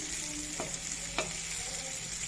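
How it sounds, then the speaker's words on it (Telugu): Chicken tandoori cooking with little oil and a bit of ghee, giving a steady, soft close sizzle with a couple of faint clicks. "చూసారా తందూరి కింద ఎలా రెడీ అవుతుంది తక్కువ ఆయిల్ తోటి తక్కువ ఆయిల్ కొంచెం నెయ్యి"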